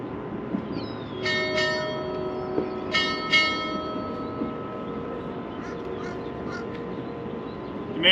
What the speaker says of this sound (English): Boatswain, strike 4 bells.